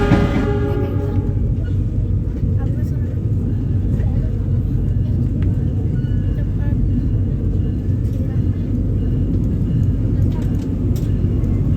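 Cikuray passenger train hauled by a CC 206 locomotive, with a loud, steady low rumble of running wheels and engine throughout, close by and continuous, and a brief higher tone at the start.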